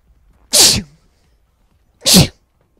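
Two loud, sharp sneezes close to the microphone, about a second and a half apart, with near silence between them.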